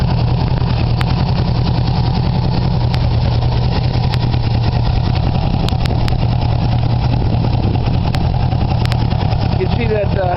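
A motorcycle engine fitted with a gasoline vaporizer atomizer runs steadily with a loud, continuous rumbling throb, close by and unbroken.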